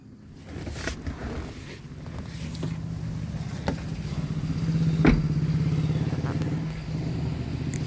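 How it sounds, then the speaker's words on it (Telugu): A used Maruti Swift car engine cranks with a few clattering turns, then settles into a steady, low idle hum that grows slightly louder and holds, heard close with no talking. "సో ఇంజన్ కూడా స్టార్ట్ చేద్దాం ఒకసారి."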